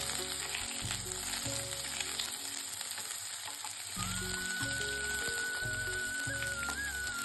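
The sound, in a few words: onions frying in hot oil with panch phoron and bay leaves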